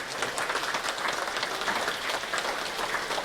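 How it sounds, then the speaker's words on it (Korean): Audience applause at a patriotic prayer meeting welcoming Vietnam War veterans in uniform, a dense steady patter of many hands clapping throughout, fairly loud and alone. "박수로 한번 환영해 주시고"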